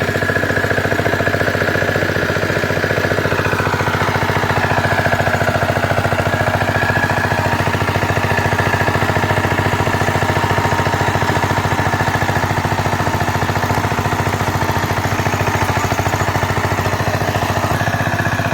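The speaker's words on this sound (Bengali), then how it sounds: "নতুন মেশিন তো একদম তেড়ে দিচ্ছে মাটি, একদম পাওয়ার টিলার তো নতুন, বিশাল সুন্দর কাজ করতেছে একদম" A new power tiller engine runs steadily while tilling farm soil, its loud, continuous mechanical drone holding an even pitch throughout, close by with no speech.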